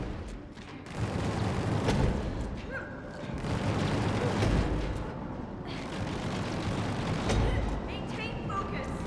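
Dense, continuous gunfire and booming blasts from the co-op video game Split Fiction, loud and rumbling throughout with bursts of crackling shots, while players talk over the action.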